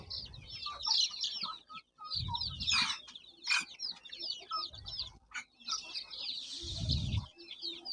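Sonali native chickens cluck and chatter in a busy flock, overlapping squawks and calls, with occasional low thumps and rustling nearby, fairly close and moderately loud.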